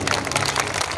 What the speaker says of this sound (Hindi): तालियां बजा दो भाई